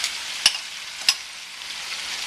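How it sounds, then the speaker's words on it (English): Shrimp sizzle in a hot pan, a bright continuous hiss with two sharp spatter pops close together early on, then an even crackle. "Okay, let's go ahead and add the shrimp."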